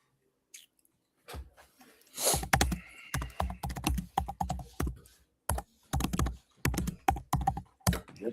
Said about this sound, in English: why you abusing your keyboard like that